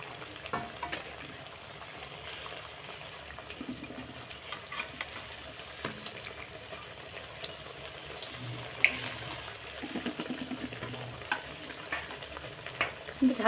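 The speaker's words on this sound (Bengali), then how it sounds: "লঙ্কা ভাজা চলছে" Green chilies frying in hot oil in a home kitchen during pakora making give a steady, soft sizzle with small crackles throughout, and brief faint clinks and stirring near the end.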